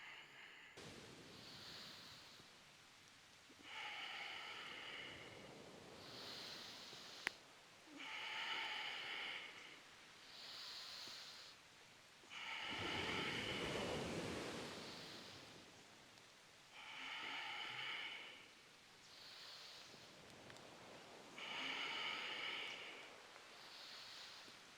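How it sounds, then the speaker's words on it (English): Ujjayi yoga breathing, made by constricting the back of the throat, gives a soft ocean-like rushing. Long, slow inhales and exhales alternate in a steady rhythm, close and quiet, with short pauses between them. "you're contracting the back of your throat to make an ocean sound"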